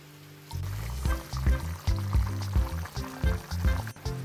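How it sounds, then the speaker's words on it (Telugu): Water poured into chicken curry gravy in a hot pan, a close series of gurgling splashes and bubbling bursts over a low simmering hiss. "ఇప్పుడు మీకు గ్రేవీకి సరిపడా వాటర్ కూడా వేసేసుకోండి."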